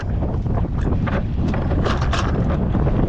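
Strong wind buffeting the microphone on a fishing boat at sea, a loud rough roar with gusty bursts throughout and no voices.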